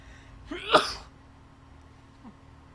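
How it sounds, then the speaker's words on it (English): A single loud, explosive sneeze bursts out close by, followed by quiet room tone and a faint small sound a moment later. "I've got explosive sneezes"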